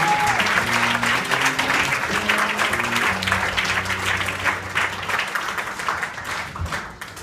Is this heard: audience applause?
yes